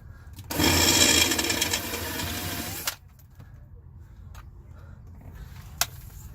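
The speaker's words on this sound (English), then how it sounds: "I'll do a pilot hole also here." A power drill bores a pilot hole into a soft RV bathroom floor, a loud steady whir for about two and a half seconds that then stops, leaving quiet room noise and a faint click.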